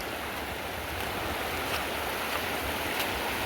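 River water rushing steadily around someone wading across a wide river, a close, constant broadband wash with no voices.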